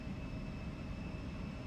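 A simulated Embraer E190 climbs out on takeoff in X-Plane 12, a brief steady engine rumble with a thin high whine, constant and even in level, with no voices.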